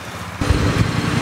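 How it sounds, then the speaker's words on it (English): Motorcycle engines warming up together on a ride out of Pune, a steady rumbling idle that starts abruptly partway in and holds loud and close, with low throbbing pulses. "Warming up all the engines."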